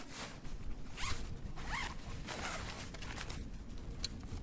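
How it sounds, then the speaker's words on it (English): A zipper on a kitesurfing kite bag is pulled open in several quick, rasping strokes, close and fairly loud against a steady background hiss. "So I'm just going to undo the zip here."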